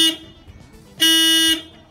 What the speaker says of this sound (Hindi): तो ये दोस्तों जो है स्टॉक हॉर्न है